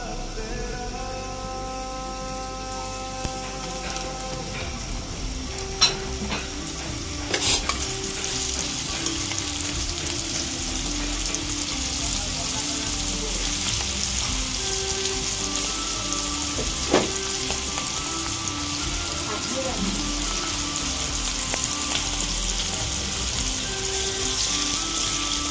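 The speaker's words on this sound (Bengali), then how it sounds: "ভেন্ডি চিপস ভাজা হয়ে গিয়েছে, এখন নামিয়ে নেব।" Okra chips fry in hot oil in a wok with a dense, continuous sizzle like steady rain, near and even throughout, with occasional clicks of stirring and no voices.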